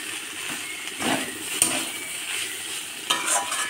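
Snake gourd with prawns, turmeric, slit green chillies and grated coconut sizzles in a pan, with steady frying hiss and a few sharp scrapes of a spatula stirring close by.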